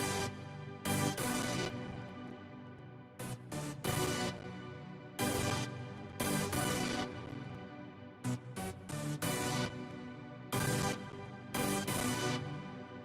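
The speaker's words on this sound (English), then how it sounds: "And that's basically like the main synth chords." Main synth chords of a West Coast hip-hop beat: bright, full sustained chord stabs in a choppy rhythmic pattern with short gaps, loud and up front throughout, with no voices.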